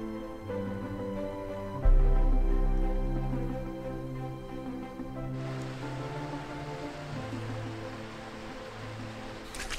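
Soda Springs, a small waterfall beside a hiking track on the Tongariro Crossing in New Zealand, gives a steady rushing wash of falling water, with a low rumble and shifting tones heard outdoors.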